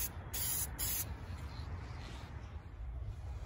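Aerosol spray paint in field gray misted onto parts of a Finnish m40/55 steel helmet, two short close hissing bursts followed by a fainter lingering hiss, with no talking.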